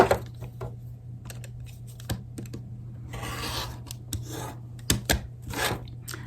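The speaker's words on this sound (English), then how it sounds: "Then we're going to trim off the excess." Excess fabric is trimmed away during foundation paper piecing of a Milkmaid's Star quilt block, heard as a run of close, dry snipping and rasping strokes with a few sharper clicks over a low steady hum.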